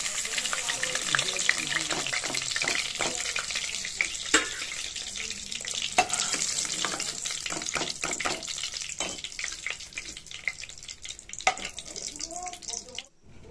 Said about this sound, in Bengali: পেঁয়াজ কুচিগুলো দিয়ে ভালো করে নেড়ে চেড়ে ভেজে নেব